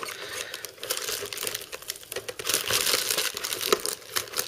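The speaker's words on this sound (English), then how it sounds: "I just removed that at the bottom. It's actually taped to the box." Accessories for an Arctic Accelero Hybrid graphics card cooler are pulled free from strong tape on a cardboard box, with close, uneven crinkling, crackling and tearing that grow louder toward the end.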